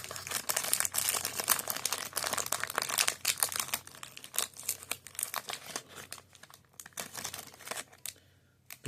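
A 1991 Topps baseball card pack being torn open and its wax wrapper crinkled, close and continuous for several seconds, then briefly quieter at the end.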